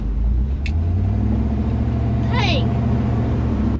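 A squarebody truck engine drones loud and close at a steady, slowly rising pitch while drifting, with a brief high squeak and a voice passing over the rumble.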